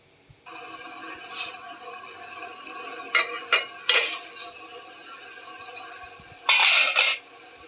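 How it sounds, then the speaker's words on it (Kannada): Metal lid set onto a pan holding cabbage dosa, several clinks and rattles as it is placed, over a steady sizzling hiss, with a louder clattering burst near the end. "ಇದಕ್ಕೊಂದು ಮುಚ್ಚಳವನ್ನು ಮುಚ್ಚಿ ಬೇಯಿಸಿಕೊಳ್ಳುವ."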